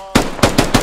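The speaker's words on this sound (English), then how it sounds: "they're lobbing grenades and fucking rifle fire over here" Game combat with rifle fire and grenades: four sharp, loud bursts in quick succession, each ringing briefly before the next.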